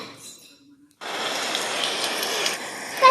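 Rain starts falling after a near-silent moment, becoming a steady, soft, broadband hiss of drops that continues evenly to the end.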